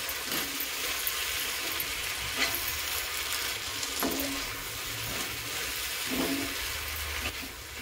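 Dried jawla shrimp are sautéed in a pan for potato sabzi, giving a continuous close frying sizzle. Several sharp scrapes and clinks from stirring punctuate it at irregular intervals.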